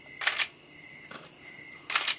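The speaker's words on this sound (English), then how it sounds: "It's got a good shutter." A Nikon F100 film camera shutter fires three times, each a crisp mechanical clack with a whirring motor drive, the middle release fainter, separated by a steady faint whine, close-up and without speech.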